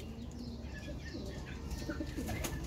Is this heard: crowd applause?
no